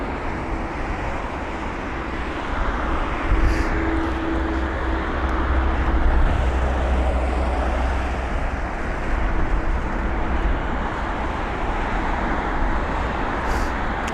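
A Swiss airliner arrives at London Heathrow with a continuous low, rumbling jet roar that holds steady throughout, with no voices over it.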